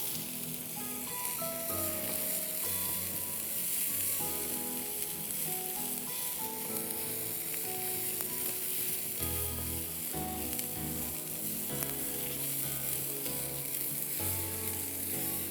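Onions with ginger garlic paste sizzle steadily in a pan, a loud, continuous frying hiss with stirring scrapes running throughout, no voices.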